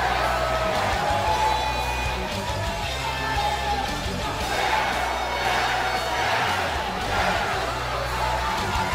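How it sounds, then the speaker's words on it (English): A wrestling arena crowd chants "yes" for Daniel Bryan, a loud, pulsing mass of voices rising and falling in repeated swells that carry across the whole stretch, dense and reverberant. "The crowd just chanting yes"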